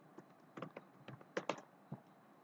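Computer keyboard keys pressed for copy, paste and enter shortcuts, a few quiet, scattered clicks with short irregular gaps in a still room.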